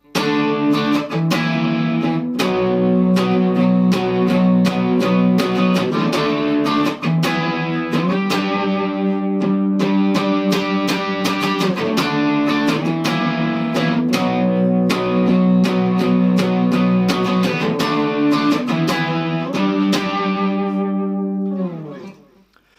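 Heavily distorted electric guitar plays a steady chord riff from a song for over twenty seconds, loud and continuous, ending abruptly.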